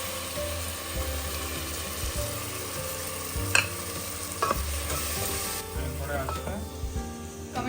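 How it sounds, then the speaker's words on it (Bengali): Onion frying with a ginger, garlic and green chilli paste in a home kitchen, a continuous soft sizzle under repeated stirring and scraping clinks from a spatula, with faint background noise. "আমরা করছি এবার পেঁয়াজ ফ্রাই।"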